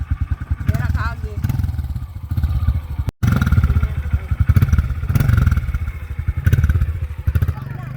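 Dirt bike engine labours and revs while climbing an uphill off-road enduro trail, a loud close throbbing drone rising and falling with throttle, with brief clatter and a short cut midway.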